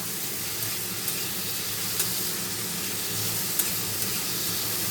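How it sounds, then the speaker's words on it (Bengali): Steady sizzling of rice frying in a pan, a constant hiss with a few tiny pops and crackles, no talking. "ভাত ভাজাটা হতে থাক"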